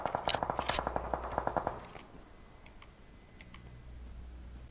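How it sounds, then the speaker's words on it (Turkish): Rapid gunfire in PUBG Mobile, a fast burst of about a dozen sharp shots over the first two seconds, then a couple of faint distant cracks against quiet background ambience. "Rastgele sıkıyorum yani."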